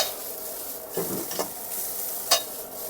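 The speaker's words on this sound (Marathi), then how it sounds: "गोबी आणि गाजर जुलियन कटिंग केलेलं ना फ्राय करून घेऊ आपण" Julienned cabbage, carrot, capsicum and onion stir-fried in a pan with ginger and garlic, a steady sizzle broken by a few scraping stirs and one sharp clink of utensil on metal, with no talking.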